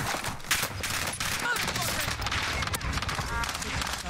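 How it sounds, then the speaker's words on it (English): Dense gunfire from a Call of Duty Warzone match fills the whole stretch, rapid bursts and volleys layered over busy game sound with voices mixed in underneath. "Stop shooting at me!"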